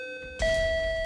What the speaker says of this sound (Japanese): チャイムの音が聞こえましたけども。